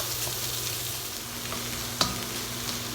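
Raw onion sizzles steadily in a hot wok as fried rice gets started, a continuous close hiss with one brief utensil knock partway through.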